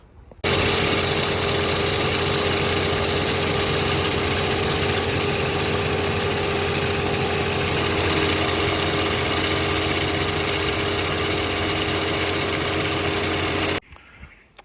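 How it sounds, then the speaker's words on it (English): A VW Golf GTI Mk5 engine runs steadily up close with a pulley noise, a continuous dense mechanical drone that holds at an even level for about thirteen seconds before cutting off, with no talking. "that sounds like a pulley noise"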